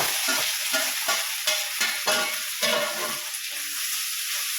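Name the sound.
mixed vegetables (peas, sweet corn, carrot, capsicum) stir-frying in a kadai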